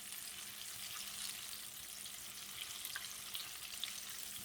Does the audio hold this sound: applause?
no